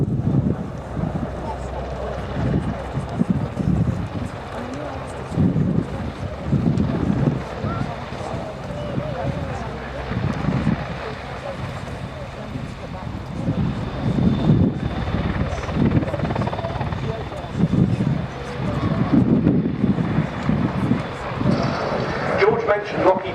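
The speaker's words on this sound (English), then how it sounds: "Coming in there for a 10-degree nose-up running landing" A Royal Navy Merlin helicopter makes a nose-up running landing at an air show, its rotor and engine roar steady and fairly loud, with wind buffeting and a commentator talking over it throughout.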